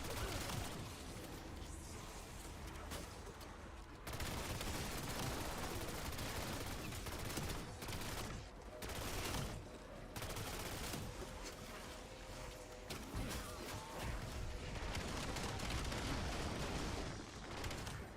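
Submachine gun fire in a video game, dense rapid bursts of shots and loud blasts filling most of the span, broken by a few brief pauses.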